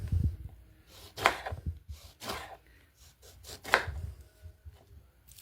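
A knife cuts through oranges being sliced for storage, making a handful of separate, crisp chopping strokes on a board. The cuts are spaced irregularly and close to the microphone, with quiet pauses between them.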